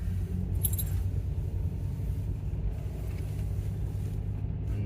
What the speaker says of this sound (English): we're going to take you for a drive